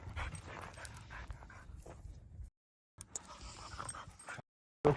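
A bird dog breathing and panting on a mountain trail run, a steady close rasp of quick breaths with soft whimpers, broken by a short silence, fairly quiet overall.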